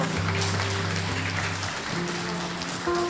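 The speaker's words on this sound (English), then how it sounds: "So give him a round of applause." An audience at an award ceremony applauds in a steady, dense wash of clapping, with music-like tones sounding underneath and no talk.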